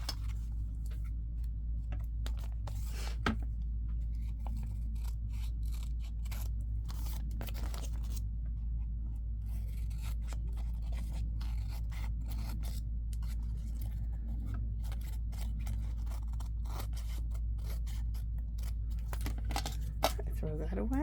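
Scissors trim excess paper in a junk journaling craft, a run of quick crisp snips and scrapes close by over a constant low hum, with no voices.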